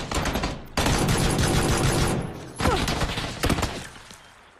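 Loud, rapid gunfire rattles in dense bursts, breaking off briefly before another volley and then tapering into scattered shots.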